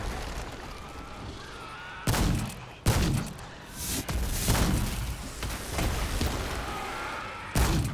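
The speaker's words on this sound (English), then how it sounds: "Shoot this bastard." Loud gunfire in the video game Remnant II, sharp shots at about 2, 2.9 and 7.7 seconds over a steady bed of combat noise and further smaller bursts, with no talking.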